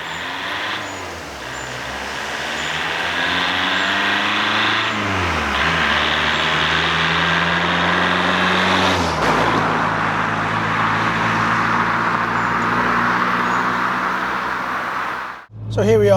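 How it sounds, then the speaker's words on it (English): Old van, about 21 years old, pulling away and driving along a road: steady engine drone with rising gear-change sweeps, loud and close, ending abruptly. "So now it's time to get it out on the road and see what it drives like."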